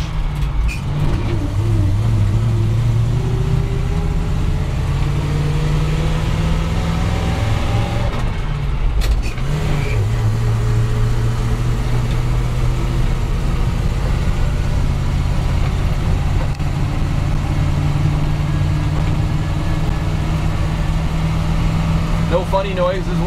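A 1988 Chevy 2-ton dump truck engine pulls an equipment trailer, a loud steady drone that rises in pitch, drops briefly at a gear change, then climbs again, with a voice talking over it.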